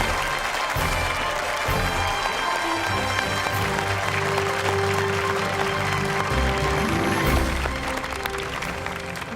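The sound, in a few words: audience applause for the Child Genius winner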